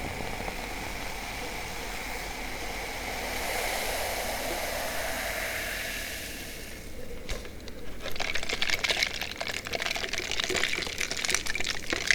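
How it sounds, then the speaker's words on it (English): A drink poured into a glass in a quiet whispered setting, a steady liquid stream rising into a brighter splashing gush toward the end, close and moderately loud. "I'm gonna pour a different drink into my drink."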